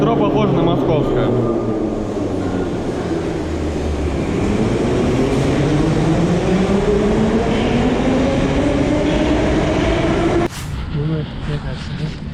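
A Baku metro train in Azerbaijan, loud and close, with a rumbling roar and a whining motor tone that rises steadily in pitch as it accelerates, then an abrupt change to rattling clatter near the end.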